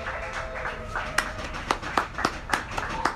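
A few people clap in a loose, irregular rhythm, sharp distinct claps spaced out over a few seconds, with faint talk underneath.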